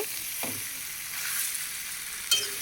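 Mutton sautés in a pan with a faint, steady sizzle, broken by a couple of soft scraping stirs.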